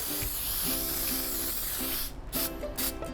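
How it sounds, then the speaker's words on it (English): Steady hissing spray from an aerosol can of baking spray coating a pan, continuous for a few seconds, then broken into short quick bursts near the end. "I'm going to take our handy dandy baking spray and coat your pan."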